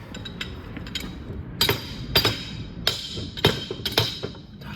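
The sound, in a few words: improvised hammering on differential parts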